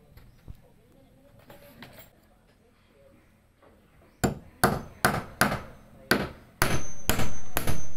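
Hammering on floorboards in a main bedroom during a cheap house build in the Philippines: a quiet stretch with faint background sounds, then a run of about seven sharp, loud, evenly spaced blows close by.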